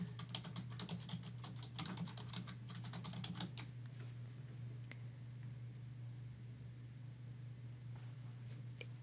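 Typing on a computer keyboard while entering a description in Blackboard Learn: a quick burst of clustered keystrokes in the first few seconds, then a few scattered taps over a steady low hum.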